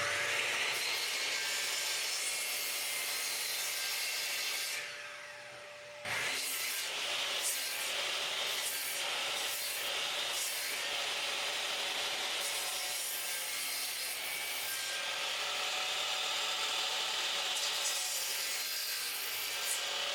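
A miter saw cuts kerf grooves into wood for a gate, giving a close, harsh, continuous rasp in repeated passes with a brief dip near the middle and no talking.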